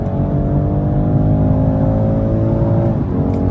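Close in-cabin engine roar from a 2023 BMW 230i Coupe pulling hard in third gear, a steady rising drone with layered harmonics that dips briefly near the end, as if at a shift.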